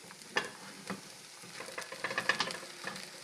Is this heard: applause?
no